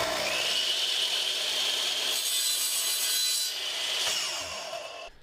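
A saw cuts off the end of a wooden chair tenon during a mortise-and-tenon chair joint repair, giving a steady, close rasping stroke that runs continuously and tapers off near the end.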